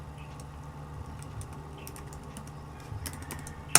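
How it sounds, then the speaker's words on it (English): Typing on a computer keyboard while working in Blender, heard as a soft, steady run of light key taps at low level, with a few sharper clicks near the end and no speech. "type in whatever I want."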